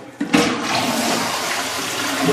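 A toilet flushes close by with a sudden loud whoosh, then a steady rush of draining and refilling water that carries on evenly to the end, with no talking.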